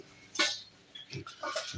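A couple of short coughs, close and brief, separated by a pause in an otherwise quiet setting.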